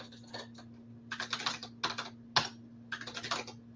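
Password being typed on a computer keyboard: bursts of quick, close key clicks in several short runs with pauses between, over a steady low electrical hum.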